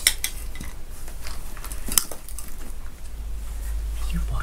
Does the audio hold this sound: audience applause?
no